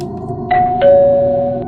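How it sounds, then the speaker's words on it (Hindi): A doorbell rings nearby with a clear two-tone ding-dong that sustains and slowly fades, loud and alone. "डोरबेल फिर से बजती है"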